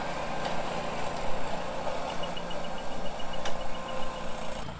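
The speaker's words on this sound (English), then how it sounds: "I hear the alarm going off." A faint, rapid series of electronic beeps sounds over the steady rumble of a nearby running Ventrac engine.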